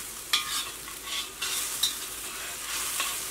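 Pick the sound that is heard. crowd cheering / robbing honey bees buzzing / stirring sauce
stirring sauce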